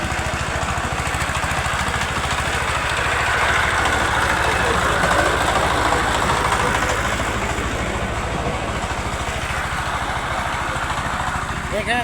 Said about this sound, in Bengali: আপনারা পাওয়ার টিলার দেখতে পাচ্ছেন।